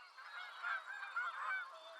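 Canada geese honk in a loose overlapping chorus at a moderate distance, calls rising and falling continuously through the wild outdoor setting with no voices present.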